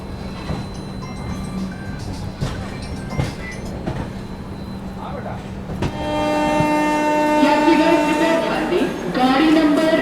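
Indian Railways train 12392 Shramjeevi Express from Delhi pulling into Bareilly Junction station after rain, with a steady rumble, scattered clanks and a rising electronic tone near the end, under people talking on the platform.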